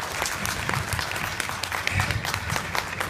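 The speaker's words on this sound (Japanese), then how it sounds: "ブレッツダンサーズにも大きな大きな拍手を。" A free live show audience in Kobe applauds dancers with dense, lively clapping, sharp individual claps standing out over a steady crowd roar with some voices.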